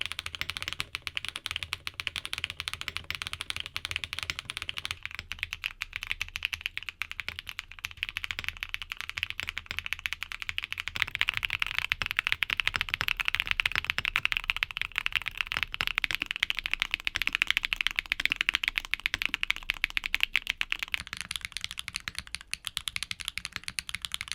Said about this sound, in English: Now here are back-to-back sound tests of all the switches we talked about today.